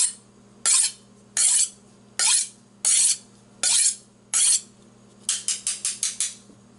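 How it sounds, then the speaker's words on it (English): A Hampton Forge kitchen knife of Chinese steel is struck repeatedly, six evenly spaced bright metallic rings followed by a quicker run of five shorter ones, close and clear. "This is a Hampton Forge. It says it's made in China. You hear that? That's the steel."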